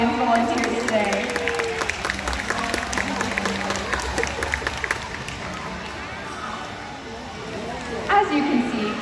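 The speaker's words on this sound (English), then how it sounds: "Let's give a big round of applause for our audience volunteers today." Applause and crowd noise from an audience at a killer whale show, a dense, steady patter of clapping from many hands filling the whole stretch, with some cheering mixed in.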